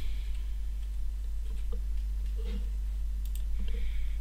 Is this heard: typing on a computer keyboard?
yes